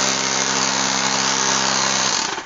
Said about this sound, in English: Sounds like an air compressor.